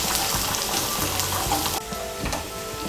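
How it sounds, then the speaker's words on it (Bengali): Chopped ginger and garlic frying in a pan give a steady, close, hissing sizzle that runs the whole time with no voices, easing slightly partway through. "আদা কুচি আর রসুন কুচিটাকে একটু ভেজে নেব।"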